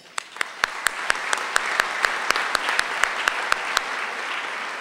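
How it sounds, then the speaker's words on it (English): A luncheon audience at a City Club event on Oregon government gives a steady round of applause that holds at a moderate level for about five seconds. Sharp, distinct claps from individual hands stand out at a regular beat. "Please join me in offering an appreciative round of applause to the Don Sterling City Club Fund of the Oregon Community Foundation."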